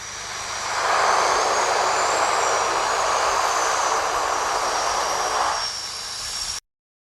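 De Havilland Twin Otter aircraft landing, a loud steady propeller-engine roar that swells quickly, holds for several seconds, then eases off before cutting out abruptly.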